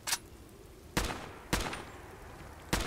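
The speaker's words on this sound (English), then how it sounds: "So let's put some rounds down range here." Kiparis submachine gun from a Fallout 4 mod fires in four short, sharp bursts spaced apart, each one loud and close, with quiet gaps between them.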